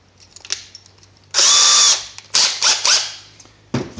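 An electric drill with a 1/8-inch bit whirs loudly in a sustained burst, then spins up again in shorter pulses, with small clicks and handling noise between, very close.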